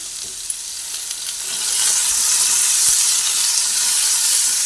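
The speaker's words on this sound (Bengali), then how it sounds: "এধার ওধার করে ভেজে নিচ্ছি" Papaya and capsicum frying with turmeric in a pan, being stirred back and forth; a close, continuous hissing sizzle that swells louder midway, with a few utensil clicks and no voices.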